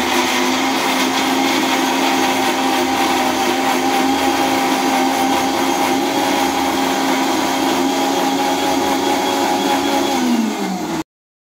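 A mixer grinder jar whirs steadily while grinding a mint and coriander masala for mutton, a loud, even motor roar that runs for about eleven seconds before cutting off abruptly.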